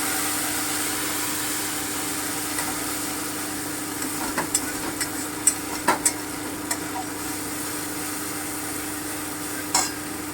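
Cashew and poppy seed paste stirred gently in a pan for potol posto: a soft, continuous low sizzle with a few light scraping knocks in the middle, fairly quiet with a steady hum beneath.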